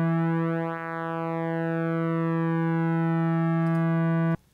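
A synthesizer square wave with pulse-width modulation holds one steady, buzzy note for several seconds, its timbre slowly sweeping and shifting before it cuts off abruptly near the end.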